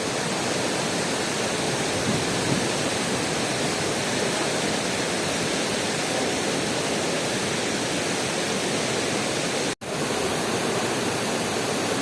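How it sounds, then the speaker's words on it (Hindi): Steady broadband roar of water falling at the artificial Mantokha Waterfall in Skardu, continuous and loud without letup, with one brief dropout near the end. "खूबसूरत वाटरफॉल है, ये मसनूई वाटरफॉल बनी हुई है।"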